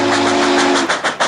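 A train sounds a sweet, sustained whistle as it approaches a road crossing, a loud steady tone that cuts off partway, leaving rumbling rail noise with rhythmic surges as the cars pass.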